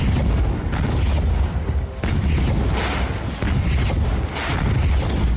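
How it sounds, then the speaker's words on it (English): Rocket launcher explosions in Warhammer 40,000: Inquisitor, a series of loud, booming blasts at roughly one-second intervals over a constant roaring background of combat noise. "The rockets there did not do what I wanted them to do in the end."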